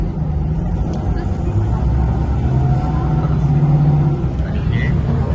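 A bus on a narrow road rumbles low and steady as it reverses, close and loud, with engine drone throughout and people talking over it.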